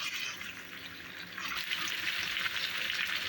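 Cream (malai) sizzles in a pan while being fried dry for mutton korma, a steady close crackling hiss that grows slightly brighter partway through, with no talking.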